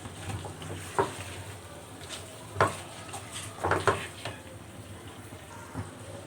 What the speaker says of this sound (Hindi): तले हुए प्याज हमने ऐड कर दिए हैं और अच्छी तरह से इसे मिक्स कर लेते हैं